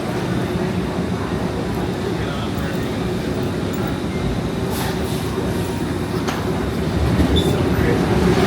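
An airport terminal train running, a steady loud rumble of wheels on rails with faint squeals and clicks, heard from inside the car while people talk nearby.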